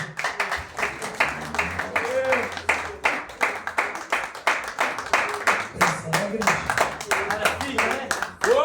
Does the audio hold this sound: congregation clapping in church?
yes